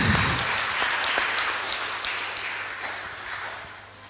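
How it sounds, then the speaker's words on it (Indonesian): A church congregation claps at an evening testimony service, steady crowd applause heard at a moderate distance that slowly tapers off. "Berikan tepukan tangan."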